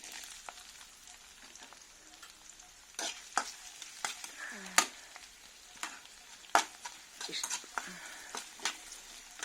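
Leftover rice is tempered in a hot pan with a faint, steady sizzle, broken by scraping spoon strokes and sharp metallic clinks that come and go at an irregular pace.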